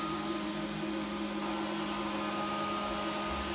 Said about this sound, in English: I'm going to close our unit down, cut on the vacuum